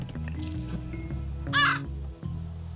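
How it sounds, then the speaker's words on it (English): A crow caws in Age of Mythology, one harsh, loud call rising over steady game music and ambient unit sounds. "Crow here, flying about."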